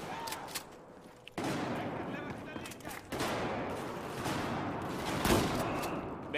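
Battlefield 4 naval-battle gunfire: a few sharp shots early, then heavy, continuous bursts and blasts that fill the rest loudly, with a player's voice mixed in.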